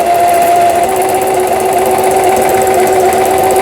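Singer 6180 home sewing machine running an overlock stitch at speed, a loud, close, continuous mechanical whir with a rapid chattering pulse and steady hum throughout.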